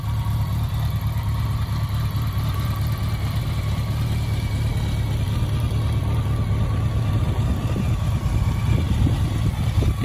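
A BMW K100 RS cafe racer motorcycle engine idles steadily nearby in a parking lot for several seconds, a low even rumble that grows slightly rougher toward the end, with no talking.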